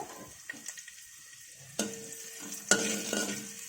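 Thinly chopped green chillies dropped into hot oil in a pan while making fried Maggi noodles, a light sizzle broken by several sharp stirring scrapes and clinks, close and moderately loud.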